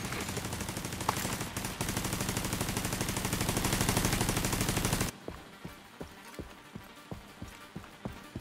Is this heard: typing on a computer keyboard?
no